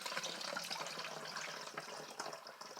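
Vinegar and water being poured for an all-natural cleansing spray, a steady close liquid splash and trickle running continuously without any voices.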